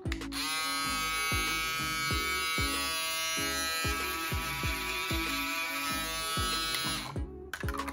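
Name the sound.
BaByliss Pro FoilFX02 foil shaver switched on, running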